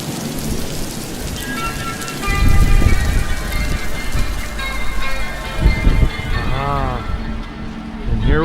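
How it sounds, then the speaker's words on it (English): Heavy rain pours outside a Cotswold pub with rumbles of thunder, a loud steady downpour pattering on surfaces throughout, with a few voices in the background. "ducking in out of the rain in a Cotswold pub"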